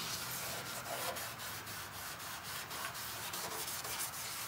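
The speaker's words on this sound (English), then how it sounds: "all you do is just do enough scuffing on it to kind of dull that shine" Hand scuffing of a car fender's original painted finish ahead of primer, a steady close rubbing and sanding noise with rhythmic strokes throughout and no talking.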